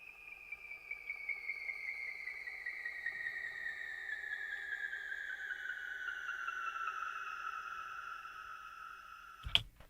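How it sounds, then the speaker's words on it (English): A pick scraped slowly down clean electric guitar strings, drenched in heavy reverb and delay, makes a faint, airy descending whine that glides steadily downward for several seconds, with a brief sharp hit at the very end. "cranking up the reverb and the delays and stuff on the clean guitar and then just running my pick down across the strings"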